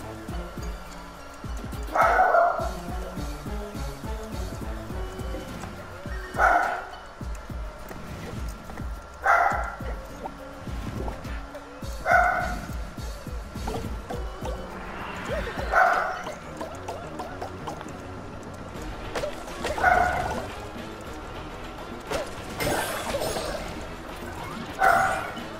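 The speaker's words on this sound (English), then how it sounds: "my dogs are barking" Dogs barking in a home while a video game plays, sharp barks repeating every few seconds at moderate distance beneath steady game sound.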